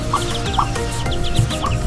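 A brood of ten freshly hatched ducklings cheeps in rapid, high, repeated peeps alongside low clucking from nearby fowl, a busy, close, continuous chorus with no talking.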